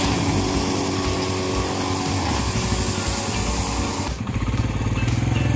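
A 2023 Suzuki GS150 motorcycle engine runs close by, a steady loud drone that drops to a rhythmic, lumpier idle putter near the end.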